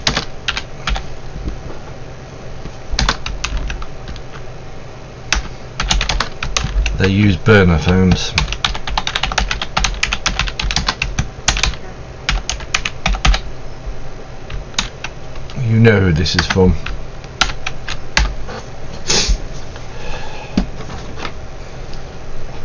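Steady computer-keyboard typing runs through most of the passage, close and fairly loud, with denser bursts of keystrokes and intermittent talking over it.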